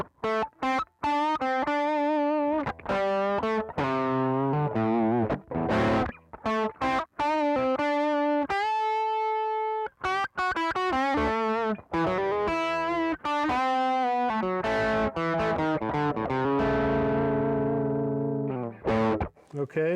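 A Gibson Memphis ES-137 Custom semi-solid electric guitar on its bridge pickup plays a bright, driven lead line, with sustained single notes and quick runs running continuously and loud, close up, with no talking.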